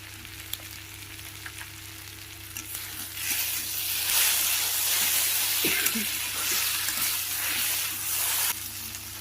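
Taro stolons with turmeric and salt sizzling steadily in a hot pan, a dense, close frying hiss that swells louder midway, with a few faint stirring clicks.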